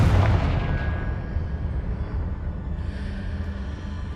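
A Confringo spell explosion in Hogwarts Legacy: a loud, booming blast up front that rolls into a sustained rumbling roar, fading slightly but lingering throughout.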